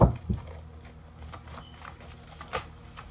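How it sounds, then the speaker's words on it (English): Tarot cards are shuffled close up in a quiet room, giving a soft riffle at the start followed by scattered light taps and flicks, with one sharper snap near the end. "Shuffling for the collective, please, Spirit."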